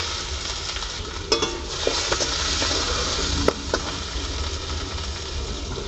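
Radhuni seeds and garlic fry in hot oil for pat shak (jute leaf greens), giving a steady, close sizzle throughout, broken by a few sharp clinks and scrapes of stirring.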